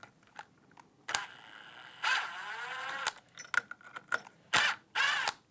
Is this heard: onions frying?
no